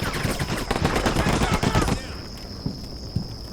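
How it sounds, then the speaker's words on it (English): Rapid gunfire in a Cold War combat video game rattles in dense bursts for about two seconds, then drops to a quieter background with a couple of faint distant shots. "We have some gunfire over here."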